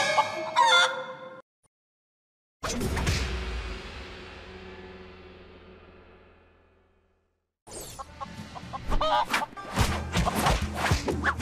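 Cartoonish chicken crowing and clucking in the Lego Ninjago video game, in loud bursts broken by abrupt silences and a long fading ring, then busy layered game effects and calls.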